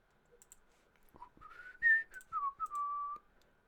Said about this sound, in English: Whistling, sorry, whistling.